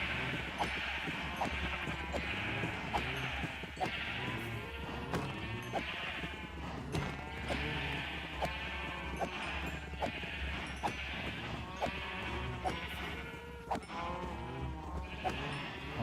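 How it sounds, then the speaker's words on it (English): Sheep in Minecraft bleating over and over in wavering, fairly loud cries that overlap throughout, with a steady game background underneath. "the sheep are kind of loud."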